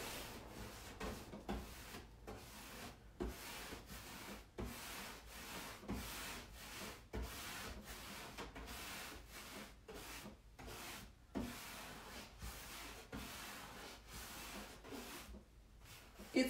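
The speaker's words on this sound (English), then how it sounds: "I'm going to take my rag and just wipe off any excess that I may have got on" A rag rubbing excess stain off a wooden French-style wardrobe, heard as close, steady wiping strokes in a repeated back-and-forth rhythm that runs continuously, with no voices.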